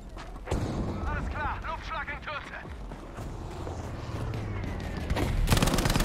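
A sector artillery strike in Battlefield V: heavy booming impacts and crackling blasts, one sharp hit early and a louder burst near the end, with a player talking and battlefield noise between.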